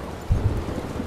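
Steady rain in the Life is Strange video game set in the Pacific Northwest, a dense low rumbling wash with a brief louder thump near the start, continuous and without voices.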